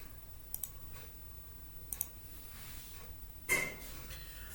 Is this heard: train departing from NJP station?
no